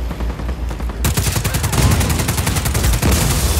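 Rapid automatic gunfire in a video game, aimed at a generator, starts after a second of low rumble, then a loud, dense string of close shots with a brief break near the end.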